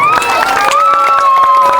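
Crowd at a barangay feeding program in Amistad and Agno, Tayug, Pangasinan claps steadily in scattered bursts beneath sustained tones and some shouting, with no clear voice standing out.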